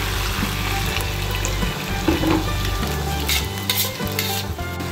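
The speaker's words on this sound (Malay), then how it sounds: "Masukkan air biar bahan ni semua sebati." Beef skin sambal simmering in a pan after water is poured in, with a busy bubbling sizzle and spatter, occasional stirring scrapes and clinks over a low steady hum, close and loud with no talking.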